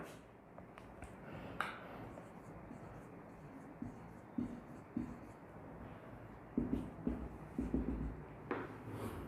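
A question is written out by hand during a maths lesson, producing soft, close scratching strokes with sharper taps and bumps scattered throughout, over a quiet room background.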